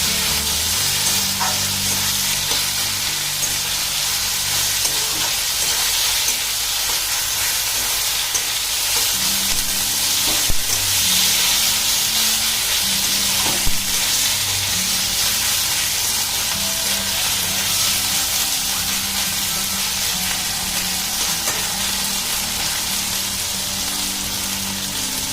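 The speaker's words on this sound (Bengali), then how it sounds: "মশলাটা একটু কষিয়ে নেব।" Ginger-garlic paste and spices fry steadily in a pan, a loud, even hiss of sizzling oil that runs unbroken for the whole stretch, with a few faint utensil taps and no speech.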